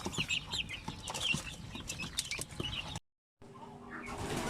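Newly hatched chicks peep in a busy cluster near an incubator, with overlapping high chirps running steadily, a brief gap of silence, then softer peeping over a low hum.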